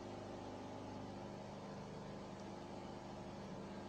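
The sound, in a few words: sewing machine stitching folded pocket cover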